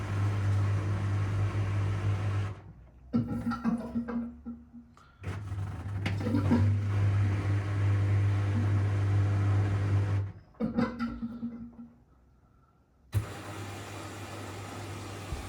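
A low mechanical hum with intermittent pauses and clattering, like a washing machine drum tumbling in short bursts, steady and close.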